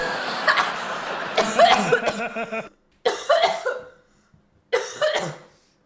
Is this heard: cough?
yes